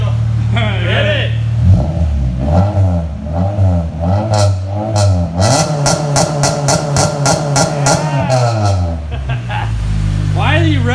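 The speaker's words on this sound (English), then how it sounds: "Why are you revving it like that?" A Mazda DA9 car fitted with a Neptune Demon 2 is revved hard and repeatedly, its engine rising and falling in loud sweeping bursts with rapid crackling pops near the end, recorded up close.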